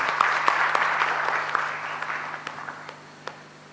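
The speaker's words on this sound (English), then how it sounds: "Another round of applause for our moderator" An audience at a live forum applauds a moderator, a fairly close, steady patter of many hands that gradually thins and fades within a few seconds.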